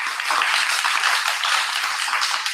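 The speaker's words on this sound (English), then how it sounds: "please give a round of applause for the volunteers that have vaccinated our citizens" An audience at a public board meeting applauds volunteers who vaccinated citizens, a steady, even wash of many hands clapping together throughout.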